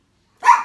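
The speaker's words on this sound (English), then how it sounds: "I knew she was going to bark." A single sharp dog bark indoors, loud and close, arriving abruptly after a moment of silence.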